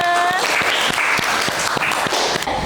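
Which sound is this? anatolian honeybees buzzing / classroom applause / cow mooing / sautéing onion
classroom applause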